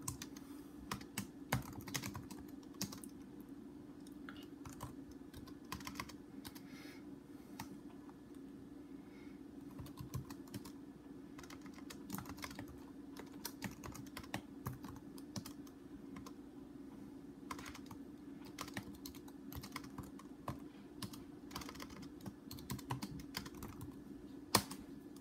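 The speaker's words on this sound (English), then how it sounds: "I'm just gonna type it in here." A program is typed on a computer keyboard for a breadboard computer's programmer module, with steady close key clicks and occasional louder taps running over a low constant electrical hum, no voices.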